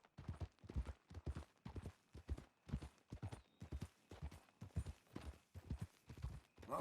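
Hooves of a horse in Red Dead Redemption 2 clip-clop at an even walking pace, a long regular series of crisp, distinct hoofbeats, fairly quiet and heard alone.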